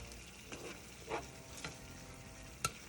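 A spoon stirs a sloppy joe meat mixture in a pan over quiet, steady sizzling. A few soft scraping strokes and one sharp clink at the end are heard at low volume.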